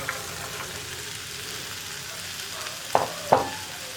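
Cut potatoes and beans in a hot pan, a soft continuous sizzle close by, then two sharp spatula knocks against the pan near the end as the vegetables are stirred.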